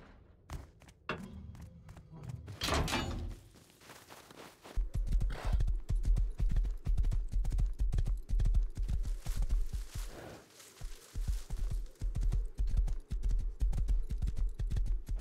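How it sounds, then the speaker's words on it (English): Horse hooves clip-clop in the video game Rust, a fast, even trot of close, loud hoofbeats that keeps going with a short break, after some brief thumps at the start. "Bro, is this horse even faster than running?"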